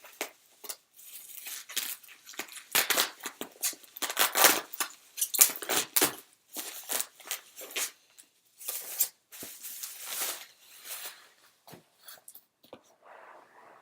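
Someone tears open a cardboard package by hand, without scissors. Bursts of ripping and crinkling come in irregular spurts, with brief quiet pauses between them, close and fairly quiet.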